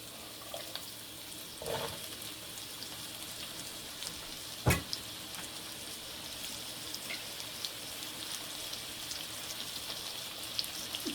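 Sliced onions frying in a pan in a home kitchen, a faint, steady crackling sizzle with a few soft clicks and one sharp knock, quiet and continuous, no voices.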